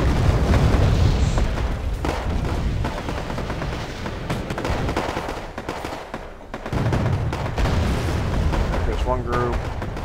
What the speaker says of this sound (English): And now my artillery continues firing again under the positions.